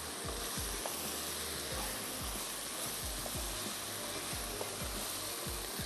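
Carrots sizzle and fry in a hot pan for a chicken and vegetable stir-fry, a steady loud crackle with repeated scraping stirs and clanks of the utensil against the pan, no voices.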